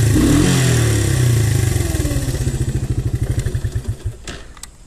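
A Honda TRX 125 ATV engine runs after an oil change, dropping from a rev into an even, pulsing putter that slows and thins before nearly cutting out at the end.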